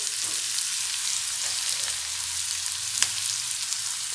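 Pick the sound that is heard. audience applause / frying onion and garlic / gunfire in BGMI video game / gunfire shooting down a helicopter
frying onion and garlic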